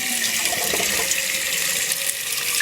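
Water runs from a pipe in a loud, steady hiss and splash that holds constant throughout, with no voices.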